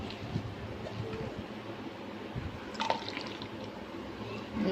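Water is squeezed out of boiled spinach for palak kofta curry by hand, dribbling and dripping softly into a glass, quiet and close.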